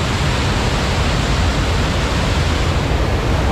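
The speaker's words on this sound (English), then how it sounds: "Look at this set of waterfalls." A set of waterfalls at the BonBon-Land theme park gives a constant, full rushing roar of falling water, steady and close with no voices or breaks.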